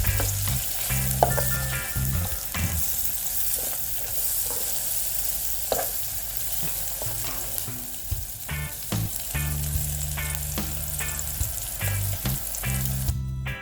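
Spaghetti aglio seasoning sizzles and fries steadily in a pan while a utensil stirs and spreads it, with scraping taps against the pan over the continuous crackle.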